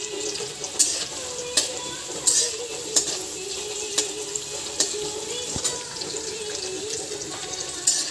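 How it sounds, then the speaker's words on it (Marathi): Curry leaves and green chillies fry in hot oil with a continuous close crackling sizzle, and regular scraping stirs land roughly every second over it, with no voices. "कढीपत्त्याला आणि मिरचीला छान फ्राय करायचं, कडक होऊ द्यायचं त्याला."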